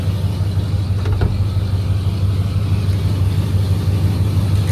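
A 1978 Ford F100 truck engine idles with a steady, close, low rumbling drone that holds evenly throughout, with one brief faint click partway through.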